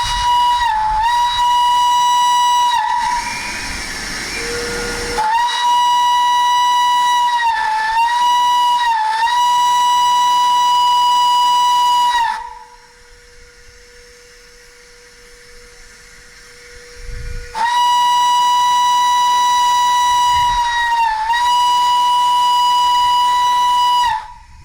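Steam locomotive whistles sound at the North Thoresby whistle-up, loud sustained blasts with brief breaks and one long pause, rising hiss of steam between whistles, no voices.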